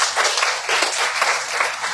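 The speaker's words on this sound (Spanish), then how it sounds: "Damos un aplauso a Dios esta mañana." A church congregation applauding during a Spanish-language Sunday morning service: dense, continuous clapping from many hands filling the room throughout.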